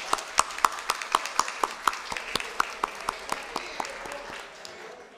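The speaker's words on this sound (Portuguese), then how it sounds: "Peço uma salva de palmas." Sparse applause during a legislative session in a chamber, a few distinct claps at a steady rhythm that thin out and fade toward the end, moderately distant with no talking over it.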